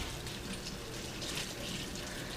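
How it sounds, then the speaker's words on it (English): Tap water runs steadily and faintly into a sink while a potato is rinsed under it, a soft continuous splashing with no voices. "rub it under the water, take your clean sponge or a vegetable scrubber, and just clean all that dirt off of it"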